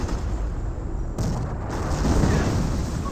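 A StuG assault gun shot striking a Sherman tank in Company of Heroes, a muffled boom with a low rumbling impact over battlefield noise, moderately loud.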